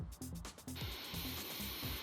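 Aerosol spray paint can hissing in a steady continuous spray as a graffiti outline is painted, close and fairly loud after a brief start, with faint background music underneath.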